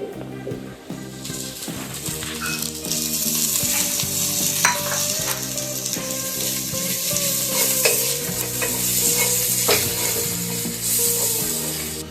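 Ginger, green chili, garlic and curry leaves sauté loudly in hot oil for tuna fish biryani, with a dense, continuous sizzle and repeated close scraping of a spoon against the pan.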